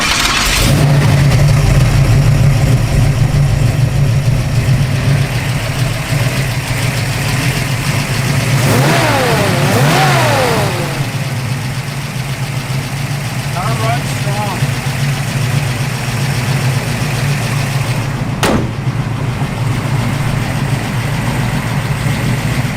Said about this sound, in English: it's got a nice little cam to it when Nathan fires it up here